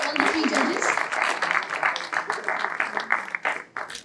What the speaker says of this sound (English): A huge round of applause for all the 3 judges